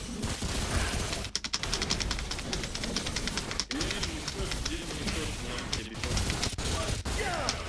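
Rapid gunfire from a weapon in the video game Remnant, dense bursts of shots layered over busy game sounds, with a few sharp louder cracks and a voice talking over it.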